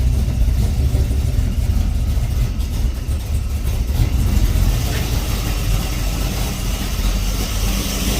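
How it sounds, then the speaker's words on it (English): A Ford Falcon XB GS hardtop V8 idles low and lumpy at steady loudness, a deep continuous rumble close by that holds throughout. "I love that chunky idle."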